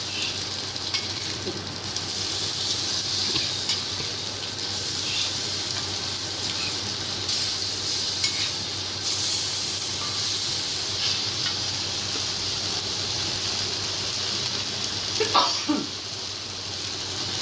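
Fish fries on a flat dosa pan with a continuous, fairly loud hiss and sizzle that holds steady throughout, with a few soft scrapes and taps of a spatula.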